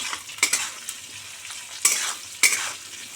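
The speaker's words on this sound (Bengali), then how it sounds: "এইরকম ডুমো ডুমো আলুগুলো দিয়ে দেবো। দিয়ে ভালো করে ভেজে নিতে হবে তেলে।" Diced potatoes frying in hot oil, a soft steady sizzle broken by a few sharp scrapes of a spoon stirring against the pan, close and without talk.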